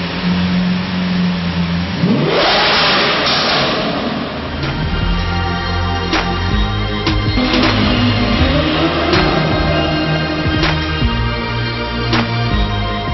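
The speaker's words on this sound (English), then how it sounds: "Time for a rev. Veneno style." A Lamborghini Veneno engine revs hard, with a sharp rising blip around two seconds, then a loud idle punctuated by repeated quick throttle stabs and crackles, close and loud with no talking.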